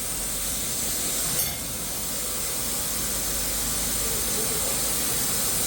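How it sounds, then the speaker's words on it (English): Welding on a Franna crane boom end produces a steady, bright sizzling hiss that carries at a constant level throughout, with one brief crackling burst early on. "Is that sizzling? Ooh, ooh, I don't like that sound."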